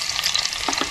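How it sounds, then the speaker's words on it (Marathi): Chopped garlic frying in hot oil as tempering for a Kokani-style prawn curry, a close, steady crackling sizzle that runs throughout, with brief louder spits of oil and no voices. "लसूण जरा लाल करायची आहे"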